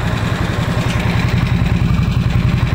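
Harley-Davidson RH975 Nightster idling through a road-legal JMCA and Euro-compliant muffler, giving a steady, close, low-pitched pulsing rumble that stays even and unbroken throughout.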